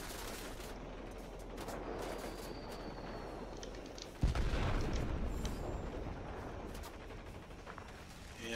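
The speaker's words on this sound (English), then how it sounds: "you can see the 20mm cannons are pretty effective" 20mm cannons fire from a Chance-Vought F7U Cutlass fighter in World of Warplanes, a dense rapid stream of gunfire over engine drone, with a sharp louder burst midway.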